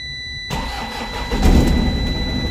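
An Isuzu 4HL1 truck engine cranks and catches, then settles into a steady mid-pitched running rumble that swells slightly, loud and close; the truck has a transmission problem.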